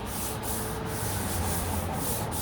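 Wet sanding on the door bodywork of a 1969 C3 Corvette with 800 grit sandpaper: a steady, close, continuous rasping rub with a faint back-and-forth stroke rhythm and no talk.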